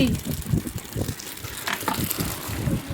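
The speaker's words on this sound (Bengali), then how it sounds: "এসে শাকটা ধুয়ে নিচ্ছি ভালো করে" Freshly picked taro leaves (kochu shak) are washed by hand in water at home. Splashing and rustling leaves make close, continuous churning that rises and falls.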